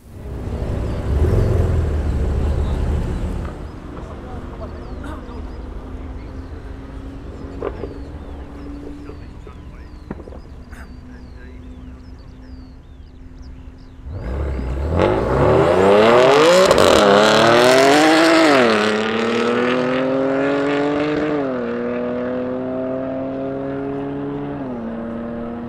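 A hybrid-turbo, 605 bhp BMW F80 M3 on a top-speed run drones at steady high speed inside the cabin, then roars hard as it pulls through rising gear sweeps, with loud wind and engine noise and no talking.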